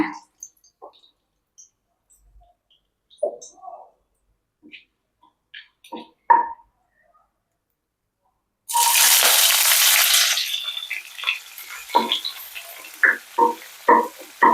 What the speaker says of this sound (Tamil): எண்ணெய் சூடானதுக்கப்புறம் ரெண்டு பட்டை ரெண்டு கிராம்பு ஏலக்காய் போட்டு பெரிய வெங்காயம் போட்டுக்கலாங்க